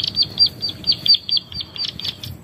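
Small tree birds give rapid, high chirps in quick repeated bursts, lured with an MP3 bird call, with some soft flutter and low background rustle.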